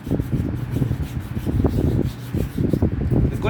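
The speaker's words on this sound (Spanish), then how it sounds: "Estábamos lijando lo que es el pistón faltante." Rapid, close rubbing and scraping strokes of fine sandpaper on a metal piston from a Karcher pressure washer motor, continuous with brief pauses.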